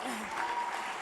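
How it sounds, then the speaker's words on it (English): Applause from an audience at a live conservative youth event interview, a short steady burst of clapping that fills the space at moderate loudness, with faint voices underneath. "Give yourselves a round of applause."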